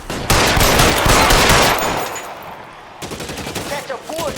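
Gunfire from the video game L.A. Noire crackles in a loud dense burst of rapid shots, then fades, and a voice speaks near the end.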